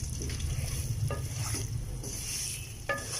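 Semolina roasting in a pan for suji halwa, with a low steady sizzle and soft scraping from stirring that recurs irregularly throughout, close by and moderately quiet, with no voices.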